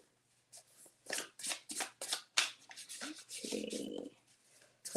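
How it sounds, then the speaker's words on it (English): Yarn-themed tarot cards being shuffled by hand, a run of quick papery riffles and slides, fairly close, with a brief rubbing stretch near the end and almost no talk. "As you can see, I'm shuffling."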